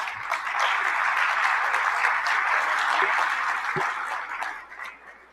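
An audience at an infrastructure-resilience conference applauds a presenter, a steady, fairly loud sustained clapping that tapers off toward the end.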